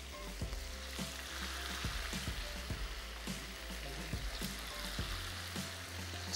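Meat browning in a pan sizzles and crackles steadily, with occasional stirring scrapes and pops over a constant frying hiss; no talking.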